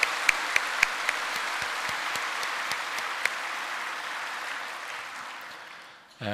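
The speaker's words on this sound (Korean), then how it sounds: "다시 한번 감사의 박수를 드릴까요?" Church congregation applauding together, a dense steady clapping wash with a few sharper near claps, sustained for about six seconds before cutting off abruptly.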